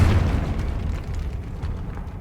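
Hogwarts Legacy Confringo blasting spell explodes with a heavy, booming burst that rumbles and slowly fades over a couple of seconds.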